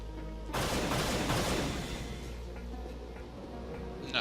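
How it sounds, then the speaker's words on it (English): A combat assault rifle in the shooter game Unreal fires a rapid, sustained burst of loud shots that fades slightly toward the end. "our combat assault rifle is pretty much a coked-up machine gun, given how fast the primary fire goes through ammo"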